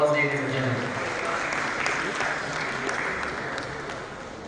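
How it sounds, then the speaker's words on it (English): Audience applause at an annual commerce day event, a steady broad wash of clapping from a large crowd that holds for several seconds and slowly tapers, with a voice heard over it. "Please give us a huge round of applause, ladies and gentlemen."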